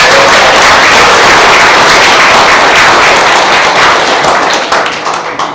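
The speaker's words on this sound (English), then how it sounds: "Let's have another round of applause." A meeting audience bursts into loud, close applause for an encore performance, a thick wash of clapping that holds steady and then thins out toward the end.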